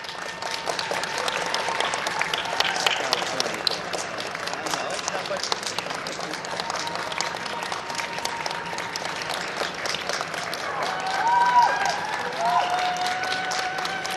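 Crowd applauding at an English Setter dog show, a sustained wash of many hands clapping at moderate distance, with faint voices and a brief swell near the end.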